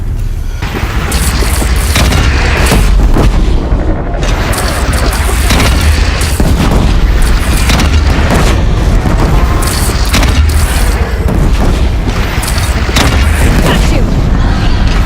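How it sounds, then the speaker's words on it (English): Cannon fire in Horizon Zero Dawn sounds as a relentless string of heavy booms and crashing blasts, loud and close throughout, with battle shouts mixed in. "Take up a cannon!"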